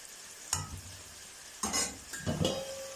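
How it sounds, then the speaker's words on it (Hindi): Fried okra is lifted out of hot oil in a home kitchen: a soft sizzle runs underneath as a utensil scrapes and clinks against the pan in three short bursts. "ऑयल में से जो है सारी भिंडियों को निकाल लेंगे।"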